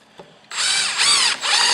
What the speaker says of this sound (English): as I countersink, is just barely kiss the surface of the plywood with the actual wider shoulder